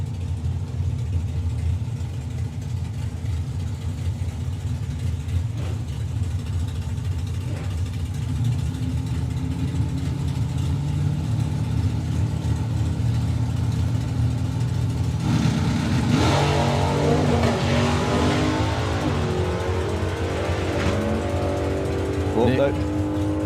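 Drag racing cars at an FIA/FIM event run down the strip with a loud sustained engine roar that builds midway as another car accelerates hard, under continuous commentary.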